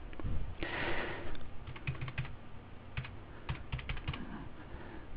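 Steady typing on a computer keyboard while accounting entries are keyed in, a run of quick clicks with a few louder keystrokes and a sniff near the start, close and alone with no talk.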